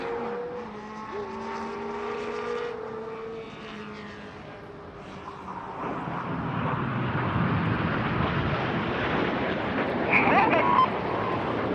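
Red Arrows jets roll around in an aerobatic display at a motorsport festival, a loud broad jet roar that swells and grows denser in the second half, with steady engine tones sweeping early on and no speech.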